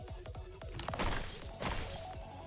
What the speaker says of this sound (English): Sounds like the crystals are breaking.